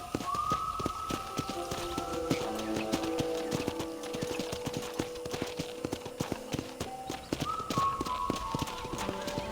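Horse hooves clip-clop in steady rhythm while riding through a ranch in the video game Red Dead Redemption, close and continuous, with light game music tones floating above.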